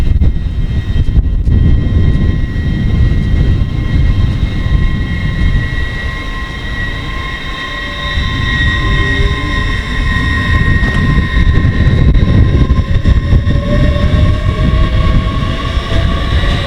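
Class 800 train pulling out of Swindon station, a steady loud rumble with rising electric traction whine and tonal hum that builds as it departs, no voices.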